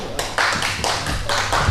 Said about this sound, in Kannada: ಚಪ್ಪಾಳೆ ಸಾಲದು, ಮುಗಿಲು ಮುಟ್ಟಬೇಕು.